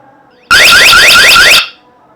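A loud electronic alarm from a Bardi wireless home alarm kit blares for about a second, a rapid rising whoop repeated several times, then cuts off abruptly into near silence.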